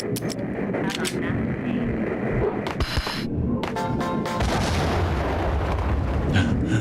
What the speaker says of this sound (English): I'm just gonna throw a grenade and see what happens